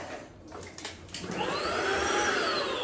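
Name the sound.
Tineco cordless vacuum cleaner running briefly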